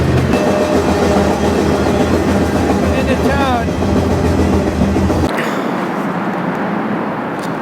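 A freight train runs near El Paso, Texas, as a loud, close, dense rumble with rattling and clatter that abruptly drops to a quieter hiss near the end, while someone briefly speaks.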